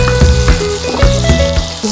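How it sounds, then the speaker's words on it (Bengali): Pumpkin pieces rubbed with salt and turmeric fry in hot oil, giving a loud, continuous close sizzle with small crackles and a few stirring scrapes, no voices over it. "কুমড়োটা একটু আলাদা করে ভেজে নিলে টেস্ট হয় জিনিসটা"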